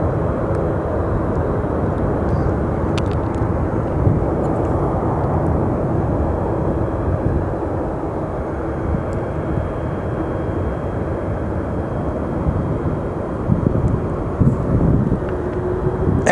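Boeing 767-300 airliner at Sky Harbor Airport, a steady low roaring engine rumble with wind buffeting, loud and continuous throughout, heard from nearby with no voices.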